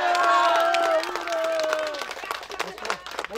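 Applause and cheering for the best goalkeeper at a children's beach league award ceremony, a crowd clapping loudly at first and then thinning out, with children's voices and talk running through it.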